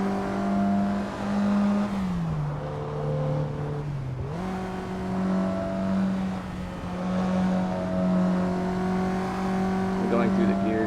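A car engine in Assetto Corsa drones steadily, its pitch dipping and rising twice as gears change, and the tone climbs again after each shift. A voice talks over the engine throughout.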